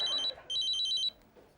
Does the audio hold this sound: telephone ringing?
yes